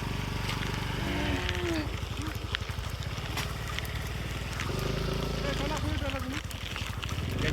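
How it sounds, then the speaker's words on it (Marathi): Bulls low in the background amid a busy outdoor din of motor rumble and people talking nearby, as cattle move into a Konkan village in the monsoon. "हे बघा दुजीचं बैल रिटर्न चाललं फिरून"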